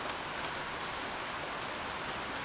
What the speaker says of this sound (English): Aha, there's rain.